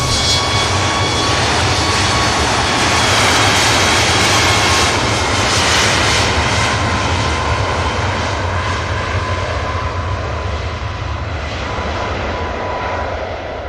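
A Boeing 737 Max jet airliner roars down the runway on its takeoff roll for Dalaman, a loud, continuous engine thunder with a whining tone, heard close and alone and easing slightly near the end.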